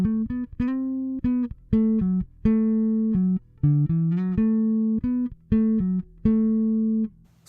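Bass guitar strung with flatwounds, tone knob fully up, plays a melodic line of distinct plucked notes with bright upper harmonics, up in the high register, close and clear with short gaps between phrases.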